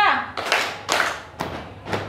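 A classroom of students claps hands together in a rhythm exercise, giving four loud, broad group claps spaced about half a second apart, preceded by a brief voice.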